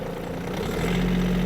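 A Yanmar F-210 Japanese mini tractor engine pulls off in first gear, a loud, close, steady diesel drone with a low throb that firms up as the load comes on.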